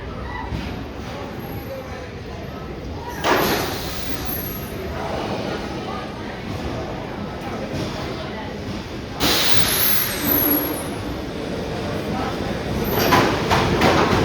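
Amusement park ride train at Dorney Park rolling into the station, a steady rumble and rattle with louder surges of braking and hissing, under faint background voices.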